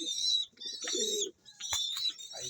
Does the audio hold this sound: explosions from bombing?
no